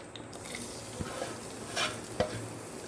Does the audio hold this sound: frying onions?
yes